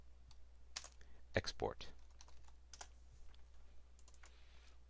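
A computer keyboard clicks softly in scattered keystrokes as a folder name is entered, under a faint steady hum, with a voice speaking briefly in the middle.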